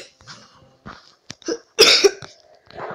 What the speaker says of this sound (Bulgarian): извинете за тази кашлица